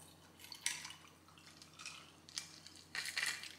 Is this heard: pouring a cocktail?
yes